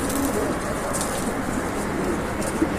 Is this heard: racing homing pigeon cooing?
yes